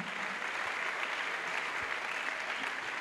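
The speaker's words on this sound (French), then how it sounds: "A clap offering to Jesus." Sustained applause from a worship congregation at a crusade meeting, many hands clapping in a dense, even wash that holds steady throughout, offered as praise to Jesus.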